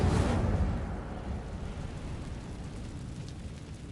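An Incendio fire spell cast in the Hogwarts Legacy video game: a loud, broad burst of whooshing flame at the start that fades into a lower, steady crackling rumble.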